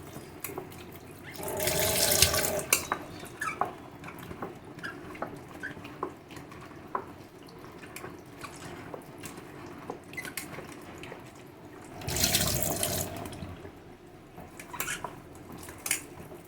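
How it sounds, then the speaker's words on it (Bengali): Spiny gourd and pointed gourd washed together in a kitchen sink under a running tap, with two loud bursts of gushing water separated by quieter splashing, drips and clinks of dishes; no talking. "দেখতেই তো পেলে কাঁকরোল আর পটলটা একসাথেই ধুয়ে নিলাম।"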